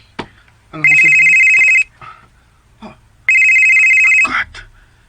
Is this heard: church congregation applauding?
no